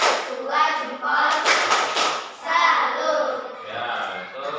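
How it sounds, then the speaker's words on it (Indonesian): Group of schoolchildren giving a rhythmic thumb-clap cheer as a reward in an Indonesian classroom, a run of claps and chanted voices with bursts of louder clapping, close and lively. "Kemudian kita kasih hadiah, yaitu hadiah dengan tepuk jempol"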